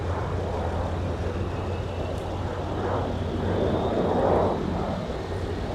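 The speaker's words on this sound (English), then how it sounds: "a bonus A330 departure, I'll take it" An Airbus A330 airliner departs from MSP airport on a winter day, its engines a steady distant roar that swells slightly toward the end, heard alone with no talking.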